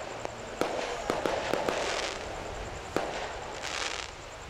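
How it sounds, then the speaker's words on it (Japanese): Fireworks pop and bang repeatedly at a distance at a lantern floating ceremony, heard from the opposite shore, sharp irregular cracks over a continuous crackling, rumbling wash of sound. "でも流し始める前に花火がバンバン上がるのね。"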